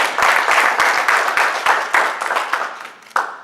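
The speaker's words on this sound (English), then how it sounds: "Let's give him a round of applause" A small conference audience claps in a short, thin round of applause with distinct individual claps, tapering off with one late clap.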